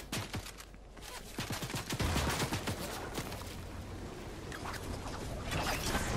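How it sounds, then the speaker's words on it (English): Bursts of gunfire in the video game Fortnite, a string of sharp cracks early on followed by steadier, more distant shooting, moderately quiet and without talk. "Someone shooting at me."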